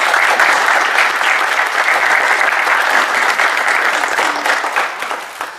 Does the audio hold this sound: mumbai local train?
no